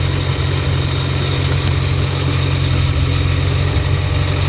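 A Honda K24/K20 all-motor engine idles steadily after starting, a dense, even low rumble with a constant mechanical hum, close and loud with no talk.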